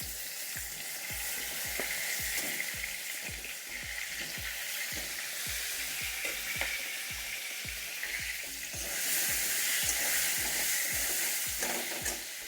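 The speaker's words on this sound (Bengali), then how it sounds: "কচুগুলো আমি একটু ভেজে নেব।" Taro (kochu) pieces fry in a pan, giving a continuous loud sizzle with regular scraping stirs and a brief surge in intensity toward the end.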